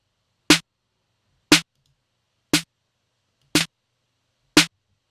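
Five snare drum hits, compressed and heavily distorted for a deep house beat, land at a steady one-per-second pace, each a loud, gritty, punchy crack with a short tail, isolated with silence between.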